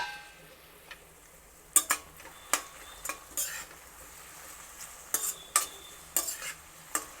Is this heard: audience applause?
no